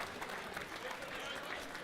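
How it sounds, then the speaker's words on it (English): Audience applause at a live boxing event, a steady wash of clapping from a crowd that stays even throughout, with voices mixed into the noise. "Can we give her a big round of applause, please?"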